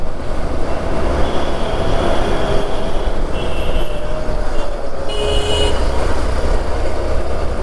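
A metro train moves at Goraguntepalya metro station. A continuous rumble of rolling rail cars carries throughout, with brief high wheel squeals and faint toots rising above it midway.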